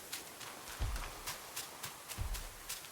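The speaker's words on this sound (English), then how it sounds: "I heard your footsteps." Soft, rhythmic hoof-like thuds from a creature following the player in a Harry Potter video game, faint and steady, a handful of paced steps over a quiet background.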